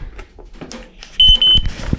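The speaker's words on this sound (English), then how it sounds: "And then this is the beep" Electronic beeps from a Dogcare dog training collar: a steady high tone sounds in two bursts of about a fifth of a second each, close and loud, over quiet room noise and handling.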